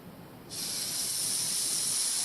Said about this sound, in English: I hear you, you're hissing. So this is actually a bull snake